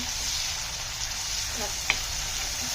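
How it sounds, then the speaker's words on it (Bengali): Onions frying in a pan as ginger garlic paste goes in and is stirred, giving a steady close sizzle with a brief clink of the utensil near the end. "এখন দিয়ে দিব আদা রসুন পেস্ট। এখন নেড়ে নিচ্ছি।"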